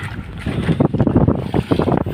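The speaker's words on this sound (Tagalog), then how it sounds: "Lakas, ang lakas na kasi ng ano, hangin." Strong wind buffets the microphone on a fishing boat at sea, gusting in rough, loud bursts close to the mic.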